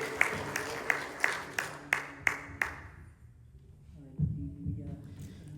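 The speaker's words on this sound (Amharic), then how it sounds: "እልልታ ጭብጨባ ይሁንለት" A church congregation claps in steady rhythm, about seven sharp, evenly spaced claps over a low murmur, before the clapping fades and a short deeper voiced sound follows.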